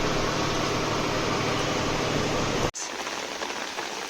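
Rain falls steadily on a moving vehicle in Tamil Nadu, a dense even hiss of drops on the body and glass, then a sudden cut to a quieter, lighter patter.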